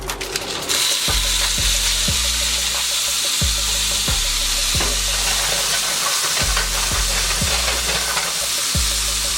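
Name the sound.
ricotta gnocchi searing in butter and olive oil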